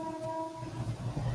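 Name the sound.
suburban train passing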